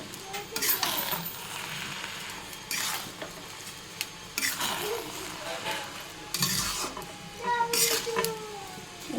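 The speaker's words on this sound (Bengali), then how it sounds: "সামান্য একটু কেওড়ার জল একটু হালকা হাতে নেড়ে দেবেন" Pulao with kewra water is stirred gently in a pot, soft scraping and clinking of a spoon over a faint sizzle, with brief voices in the background.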